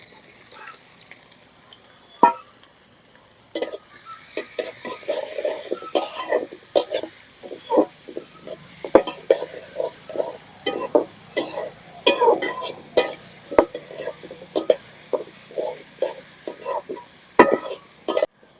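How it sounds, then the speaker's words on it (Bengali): Chopped onion and whole garlic cloves fry in a pan, a soft sizzle under frequent scraping and clicking stir strokes. Occasional voices and a cough are heard nearby. "পেঁয়াজ আর রসুন ভাজা নিছি"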